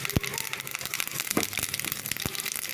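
Tadka of a spoonful of heated oil spluttering in a pan, a steady close crackle and sizzle broken by a few sharp pops.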